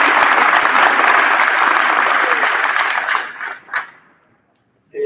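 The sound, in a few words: applause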